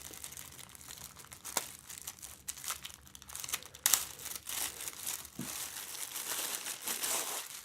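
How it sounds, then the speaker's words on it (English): A clear plastic packet crinkles and rustles as a Dreamstone back warming belt is pulled from it, giving close, soft, irregular crackles with a few sharper crunches throughout. "Let's remove it from its clear plastic packet."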